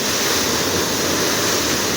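A loud, unbroken torrent pours through a partly opened gate at Siddheshwar Dam in Maharashtra, a dense close-up rushing roar with no talk.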